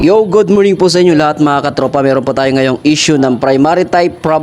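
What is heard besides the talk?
No everyday noises stand out.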